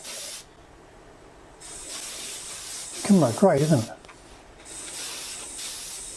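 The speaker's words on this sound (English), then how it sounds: "Just spraying it now." A steady close hiss of aerosol finish sprayed onto a wooden jewelry box runs in bursts, with a brief rattle in the middle and a voice speaking over it.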